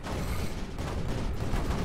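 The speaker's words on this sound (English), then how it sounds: "Cannon!" Cannon fire in Creeper World 4, a dense, continuous roll of booming shots blending into one loud, rumbling barrage with no voices.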